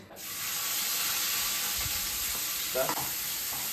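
Asafoetida and finely chopped onions hitting hot oil: a sudden, dense hiss of frying rises almost immediately and holds steady and close, with a couple of soft stirring scrapes near the end.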